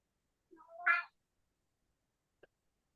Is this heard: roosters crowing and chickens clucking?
no